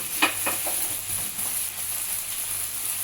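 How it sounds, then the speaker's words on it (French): White beans frying in palm oil in a pan give a steady, soft sizzle with a few faint clicks of stirring near the start, no voices over it. "on va le laisser bien dorer, que ça soit bien cuit là dans la poêle"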